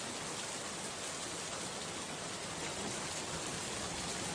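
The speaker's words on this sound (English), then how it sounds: "the only sound that could be heard was the pounding rain against the windows" Heavy rain pounds steadily against windows on a dark, stormy night, a dense unbroken wash of noise at constant loudness with no voices.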